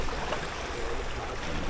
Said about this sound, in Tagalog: napakalakas ng agos oh